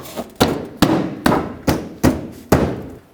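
Plastic washer fluid tank on a 2007-2009 Saturn Aura being pressed and clipped into place, six sharp, loud knocks at roughly even intervals, close up with brief ringing after each.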